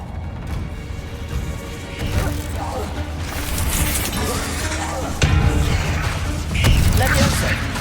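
Hogwarts Legacy spell combat with the Bombarda blasting spell: crashing explosive impacts and mechanical clatter build in loud waves through the scene, a voice briefly speaking amid the chaos.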